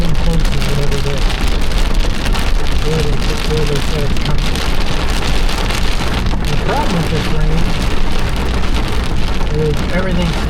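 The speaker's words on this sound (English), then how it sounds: "Rain is getting much harder." Heavy rain pours down hard and steadily during a tornado storm, a dense, loud, close wash of drumming drops with faint voices murmuring beneath it.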